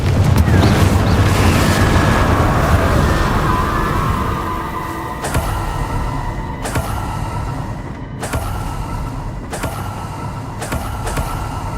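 Confringo explosion spells cast in the Hogwarts Legacy video game, a series of sharp booming blasts with fiery rumble at irregular intervals over continuous loud game noise.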